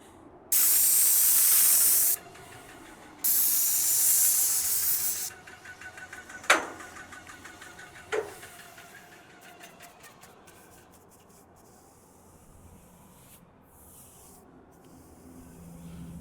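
Airless sprayer applying wood stain to a house hisses in two steady bursts of a few seconds each, close by, followed by a couple of sharp knocks and faint rustling.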